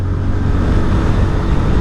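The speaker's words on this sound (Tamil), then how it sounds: "வண்டியோட எக்ஸாஸ்ட் சவுண்டும் நல்லா இருக்குது." Bajaj Pulsar 125 BS6 motorcycle exhaust heard up close, a loud, steady low rumble that holds at an even pitch without breaks.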